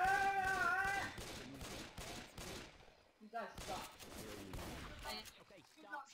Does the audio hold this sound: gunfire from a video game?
yes